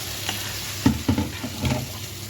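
Eggplant moussaka with tomatoes frying in a pan is stirred, giving a soft sizzle under a few scraping, clattering stirs, close and moderately loud, with no talk.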